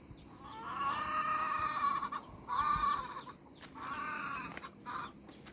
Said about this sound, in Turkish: Böyle giderken tavuklarımı da göstereyim size.